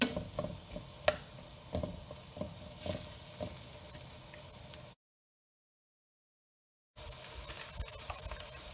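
Onions fry in a pan for a chickpea curry as they soften and caramelise, with a steady moderate sizzle and intermittent stirring clacks, broken by a two-second silent gap before the frying resumes.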